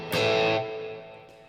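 A single electric guitar chord through a Boss Katana amp with a reverb effect rings out with a distorted attack and fades into a short lingering tail, close and alone.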